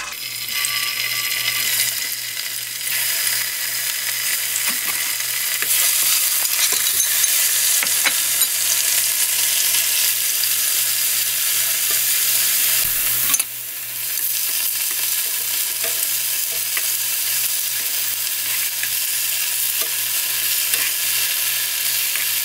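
Tofu pan-frying in a little oil hisses in a loud, steady sizzle that runs unbroken, with a brief dip midway and no voices.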